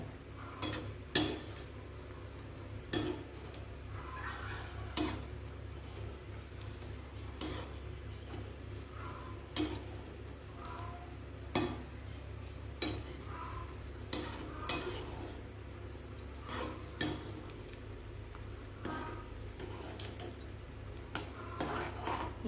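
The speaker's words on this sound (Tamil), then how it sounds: "போட்ட உடனே கொஞ்சம் நேரம் நல்லா கிளறி விடுங்க." Bun halwa being stirred in a pan on the stove gives a steady scraping and rubbing with frequent light metallic clinks of the spoon against the pan, close and continuous, with no talking.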